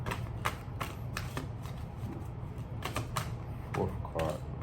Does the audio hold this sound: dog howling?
no